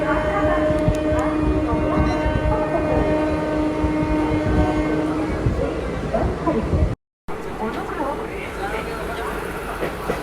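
A train rake moving at busy Howrah railway station, a continuous loud rumble with steady tonal hum and a horn-like tone, heard through the hubbub of a crowded platform.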